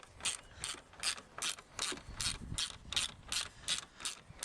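A ratchet tightens the windscreen bracket bolts on a Land Rover Defender, giving a run of about eleven evenly spaced clicking strokes, close and clear with no talking.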